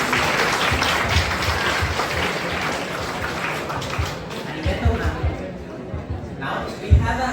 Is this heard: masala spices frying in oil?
no